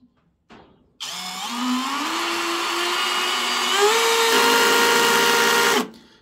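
Parkside PBSPA 12 C3 12V cordless drill driving a screw at its minimum clutch setting, a loud whining motor hum held for about five seconds with pitch steps as the clutch engages, then stopping abruptly.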